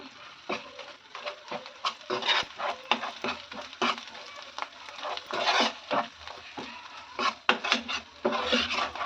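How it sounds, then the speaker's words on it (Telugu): Ground ginger-garlic paste fries in a pan for cauliflower curry, a soft sizzle broken by irregular bursts of scraping and stirring strokes, fairly quiet and close. "ఇది మిక్సీ పట్టిన అల్లం వెల్లుల్లిని ఇందులో వేసి మంచిగా ఫ్రై చేసుకోవాలి"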